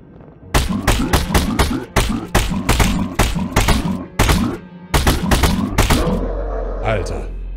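Rapid bursts of gunfire in the horror video game The Pulse of Evil, loud sharp repeated shots in quick clusters with brief pauses, ending in a low rumble.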